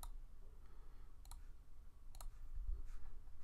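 A computer mouse clicks a few times, crisp sharp double clicks standing out faintly over a quiet room hum.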